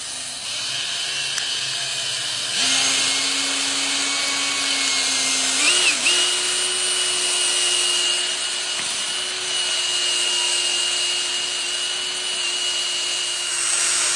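A long whisk attachment on a power drill churns epoxy grout, its motor whining steadily with a pitch step up partway, accompanied by a scraping, rubbing swirl in the bucket, close and sustained.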